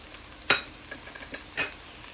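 A spoon stirs seasoning into a flour roux in a pot for gumbo, making a few scraping clacks against the pot over a faint sizzle, one sharper knock standing out.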